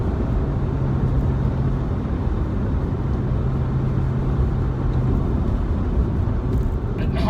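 A Porsche 987 drives along a smooth B road, a steady, loud engine and road roar from inside the car that holds a constant drone throughout.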